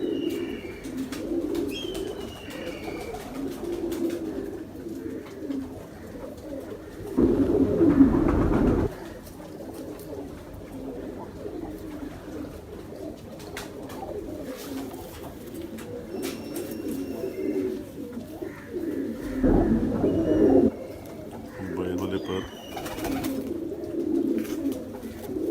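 Pigeons of the Ferozpuri breed coo steadily through a loft, soft repeated throaty calls close by, with a couple of louder bursts of fluttering or rustling and occasional faint chirps in the background.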